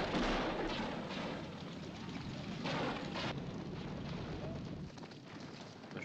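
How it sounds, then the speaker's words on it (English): Gunfire and a stampeding cattle herd roar from a 1958 western film scene, a dense, rumbling wash of hooves and shots with sharper bursts, loud and continuous throughout. "You've got the gunfire and then also the herd that's going at you."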